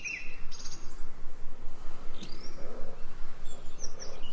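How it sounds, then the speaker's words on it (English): Birdsong in a forest: a few scattered high chirps and short calls, fairly faint and distant, over a steady soft background hiss with no talking. "As you feel so at ease in the forest with the bird song"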